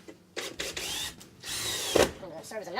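A power drill whirs in short bursts, one sustained run and a sharp burst near the end, with brief quiet gaps between.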